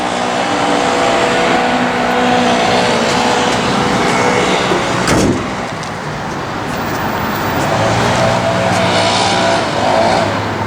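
A 1970 Chevrolet Chevelle SS engine and exhaust produces a loud, continuous rumbling roar, with a brief sharp burst midway and a slight dip in level before it swells again.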